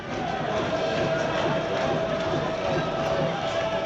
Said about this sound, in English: The Altrincham travelling fans doing everything they can to cheer their side on. They are loud.